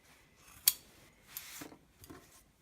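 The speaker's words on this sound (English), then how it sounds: "I just have zipper tape here, so just cutting through the zipper tape" Scissors snip through zipper tape in a few crisp, sharp cuts, one loud close chop followed by softer slicing and rustling strokes, quiet between them.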